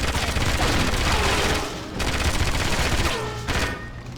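Heavy, continuous video-game gunfire from 007 Agent Under Fire rattles in dense automatic bursts. Brief dips break the barrage before it resumes loud and close.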